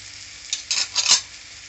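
Chili powder being stirred into frying spices for mutton iguru, a soft sizzle under a few quick scraping spoon strokes against the pan, close and brief.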